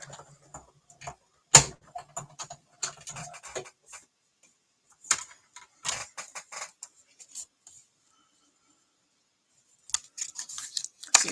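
Scissors snip through cardstock for a handmade card in short, close, irregular clusters of cuts, with quiet pauses between them.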